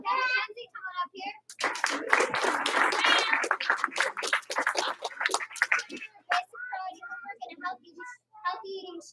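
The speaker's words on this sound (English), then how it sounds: "One clap. Two stomps." An elementary class performs a clap-and-stomp cheer, a burst of rhythmic clapping and thumping from many children, loud and busy in a room, with children's voices chattering before and after.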